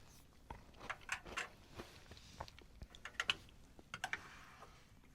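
Crisp crunching from crackers eaten along with a meal-ready-to-eat of chicken, noodles and vegetables in sauce, heard as a run of close, irregular crackly bites and chews with no talking.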